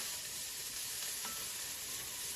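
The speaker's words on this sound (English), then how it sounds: "let that cook for a few minutes until the onions are slightly transparent and tender" Onions cooking in a soup pot for a creamy Parmesan soup give a steady, soft, even sizzle throughout, close and continuous with no voices.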